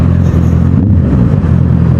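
Road traffic rumbles close and loud, with steady engine drone and a car revving or passing through the middle, continuous throughout with no talk.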